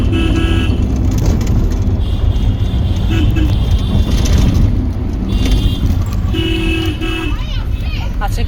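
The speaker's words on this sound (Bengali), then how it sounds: "ট্যাক্সিতে উঠছি" Inside a taxi on a city street, steady engine and road rumble carries throughout while car horns toot repeatedly nearby, with people talking over the traffic noise.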